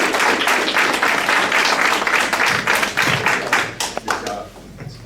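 Audience applause at a city council meeting, a short burst of close, fairly loud clapping from a small group that thins out into scattered claps within a few seconds.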